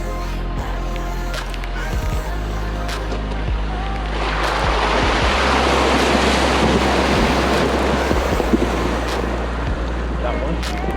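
An off-road vehicle splashes through a shallow river crossing on the Barracks Trail near Kanab, Utah, its rushing water spray swelling midway over a steady engine drone, near and fairly loud.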